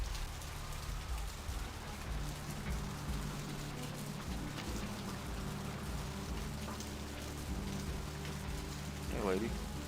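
Steady rain falls in the video game Vampire the Masquerade Bloodlines, a soft continuous patter at low level that runs the whole time, with a voice heard briefly near the end.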